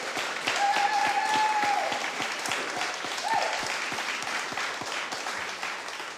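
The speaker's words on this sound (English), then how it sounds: "So can we give a round of applause to Tatiana?" An audience applauds steadily for Tatiana, a data lead, at a community evening event, dense clapping filling the room at even loudness for several seconds, with a few brief tonal sounds over it.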